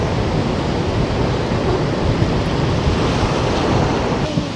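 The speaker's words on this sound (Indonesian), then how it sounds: "nanti ombaknya ke sini" Steady, loud roar of ocean surf breaking on a beach at Cibeureum, Anyer, with wind buffeting the microphone, continuous and unbroken with no voices.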